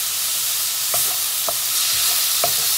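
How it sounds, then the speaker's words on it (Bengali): Capsicum and carrot fry with chopped garlic in a hot wok for chicken chow mein. A loud, constant sizzle runs throughout, broken by a few quick spatula scrapes and tosses. No voices are heard. "তো এখন ভাজা ভাজা করে নেব"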